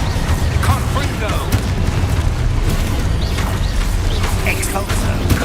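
A Confringo blasting spell bursts in the Hogwarts Legacy game, heavy booming explosions and rumbling impacts continuing steadily over the whole stretch, loud and dense.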